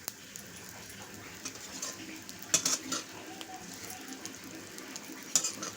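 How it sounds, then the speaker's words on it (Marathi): Dried bombil fish dry-roasting in a pan for chutney, a faint steady sizzle broken by a few sharp clinks of a utensil against the pan. "चांगली खरपूस भाजून घ्यायची त्याला."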